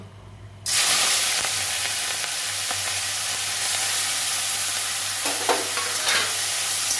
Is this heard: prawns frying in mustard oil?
yes